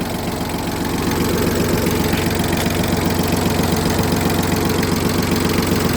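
A Yanmar Ke-20ps small tractor's diesel engine idles steadily and loudly, its rapid knocking chug continuous throughout with no voices.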